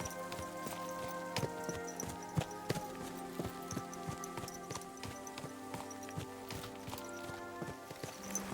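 A horse's hooves clip-clop steadily while being ridden in Kingdom Come Deliverance 2, a quick, irregular patter of close, sharp impacts over a faint background hum.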